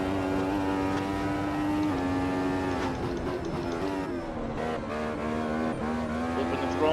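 A race car powering out of a corner at Brands Hatch, its engine a loud sustained harmonic drone that dips and climbs in pitch through the gears, heard alone.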